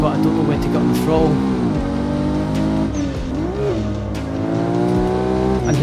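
A Nissan Skyline GT-R Nismo Z-Tune engine revs loud and close on a race track, held in second gear through a corner with rising and falling pitch and brief tire squeal, while a voice talks over it.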